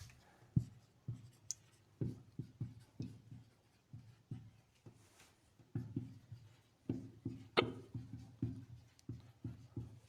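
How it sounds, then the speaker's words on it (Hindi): Pen writing dates by hand on paper, a series of short scratchy strokes in irregular bursts, close and fairly quiet, with no talking. "ये लो वापस से लिख देते हैं"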